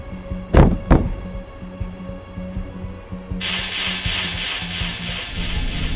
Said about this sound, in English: That's the sound of somebody getting slapped upside their head